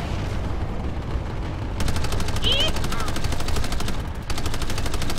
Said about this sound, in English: The mini chain gun is the ultimate free fire machine.